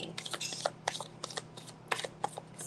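A deck of tarot cards being shuffled up close, with quick bursts of riffling and slapping card edges repeating in an uneven rhythm.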